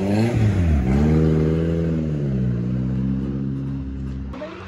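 A racing motorcycle engine under test revs hard in a loud, sustained mechanical roar that climbs, holds and tapers before cutting off sharply at the end.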